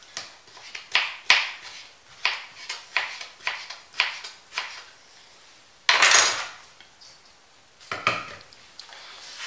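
A knife chops cucumber into chunks for a fresh salad, a series of crisp, close strikes against a board in an even rhythm, with a louder scraping clatter midway and a few more cuts near the end.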